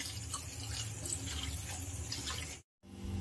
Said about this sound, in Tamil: இதுக்கு 1 கப் அளவுக்கு நம்ம தண்ணி ஆட் பண்ணி இதை மெல்ட் பண்ணி எடுத்துக்கலாம்.